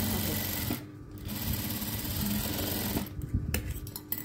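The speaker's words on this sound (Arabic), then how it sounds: "وهعمل اول خط خياطة" Sewing machine stitching a fabric gift bag in steady bursts, running loud through most of the moment with a short pause near the start and choppier stitching at the end.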